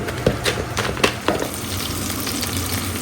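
Chicken pieces frying in a hot pan, sizzling steadily, with a few sharp clatters near the start as the pieces are turned over, then an even, continuous hiss to the end.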